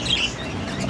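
Pet budgies (keets) chirping, a few short high tweets near the start over a steady low background hum, with no talking.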